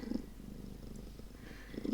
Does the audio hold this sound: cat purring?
yes